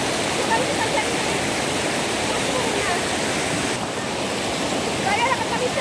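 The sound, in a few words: strong river current of rushing water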